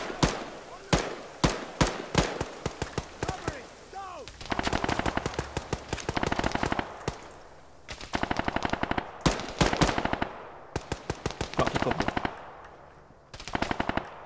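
Machine gun fire in the Arma 3 military shooter during a night rescue mission in Fallujah, with loud sustained automatic bursts and single shots repeating throughout, close and dominant, with brief pauses between volleys.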